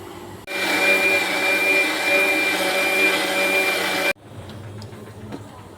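A mixer grinder whirs loudly and steadily for about four seconds while grinding coconut and coriander masala, then cuts off abruptly, leaving quiet kitchen background.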